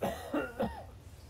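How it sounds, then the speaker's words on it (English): A character in the toxic zone of modded DayZ coughs three times in quick succession, fairly close and soft, with nothing else around it. "Okay, I'm coughing again."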